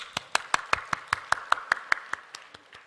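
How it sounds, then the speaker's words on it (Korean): Applause from a small church congregation at a Tuesday group-leader training session, a dozen or so evenly spaced claps that start crisp and close, then thin out and fade near the end. "박수 한번 쳐주십시오"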